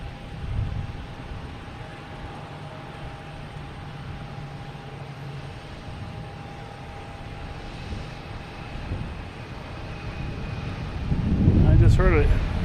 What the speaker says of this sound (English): I just heard an A330 coming in for a landing